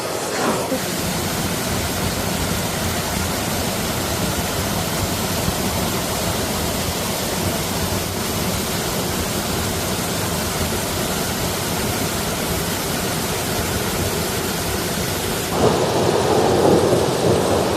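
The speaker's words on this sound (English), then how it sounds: "the water coming out from the dam" Water rushes out of Temghar Dam like a small waterfall, a steady, close, broadband roar that holds unbroken throughout and swells slightly louder near the end.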